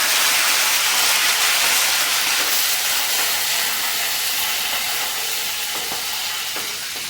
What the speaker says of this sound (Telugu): పచ్చిమిర్చి కరివేపాకు వేసి తర్వాత మసాలా వేద్దాం